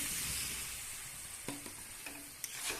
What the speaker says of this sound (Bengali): অল্প করে একটু জল দিয়ে দেবো।